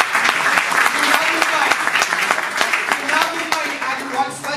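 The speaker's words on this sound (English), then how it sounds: "a big round of applause" A large audience applauds at the Mumbai Fest, a steady dense wash of clapping with sharp individual claps standing out, held at an even level throughout.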